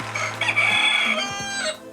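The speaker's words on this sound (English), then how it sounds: "Yes, a rooster. Here is a real rooster." A real rooster crows loudly and close by, one long full cock-a-doodle-doo lasting about two seconds with a rising, wavering middle, heard alone without talk.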